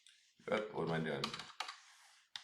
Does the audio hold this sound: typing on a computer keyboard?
yes